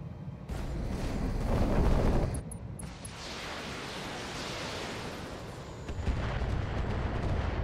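Artillery fire booms in the BattleTech mech combat video game, a heavy rumbling blast that swells and fades, followed by sustained roaring noise and a second surge of bursting fire, loud with no talking.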